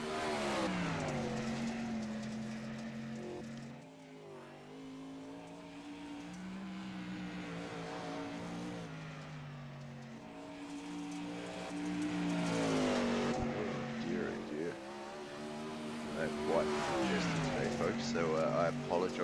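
Race cars in the iRacing video game drone and rev through gear changes, engine pitch rising and falling continuously, with someone talking over the sound.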